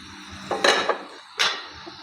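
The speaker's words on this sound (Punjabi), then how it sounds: "ਹੁਣ ਆਪਾਂ ਕੜਾਹੀ ਤੋਂ ਢੱਕਣ ਲਾ ਦਿੰਨੇ ਆ" A lid comes off a kadhai of frying arbi (taro), giving two sharp metallic clanks about a second apart, close and clear over a quiet background.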